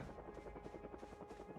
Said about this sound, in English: I hear the helicopter.